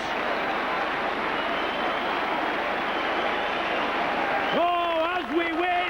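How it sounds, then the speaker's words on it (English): A rugby league crowd at a St Helens versus Castleford match applauds and roars after a try, a broad, sustained wash of stadium noise, with a commentator's voice rising over it near the end. "as we wait for the applause to die down!"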